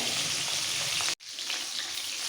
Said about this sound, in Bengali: সব কটা মাছ দুবারে ভেজে নেব যেহেতু একটু ছোট মাছ মাছগুলোকে কড়া করে ভাজতে হবে